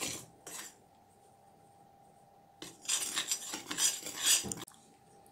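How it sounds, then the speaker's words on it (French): Sifted cornstarch being mixed into beaten cake batter for a Yule log, heard as a brief clink, a long quiet stretch, then a busy two-second burst of utensil scraping and tapping against a bowl, close and fairly soft. "On rajoute ensuite dans la préparation battue la maïzena tamisée. Et on mélange."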